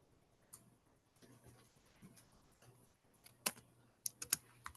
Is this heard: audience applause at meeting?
no